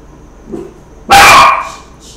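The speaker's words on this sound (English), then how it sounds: "I'm sorry about that, guys. My little puppy, my little doggy." A small puppy lets out a single sharp, loud bark close by, with a fainter yip just before it and quiet room tone around it.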